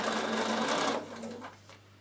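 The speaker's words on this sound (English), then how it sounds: "this time you're sewing over your little tags" A sewing machine stitches through fabric and small tags in a fast, even mechanical whirr for about a second before slowing and fading to quieter clicks.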